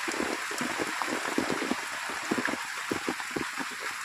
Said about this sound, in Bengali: বৃষ্টি কিছুটা কমে গেছে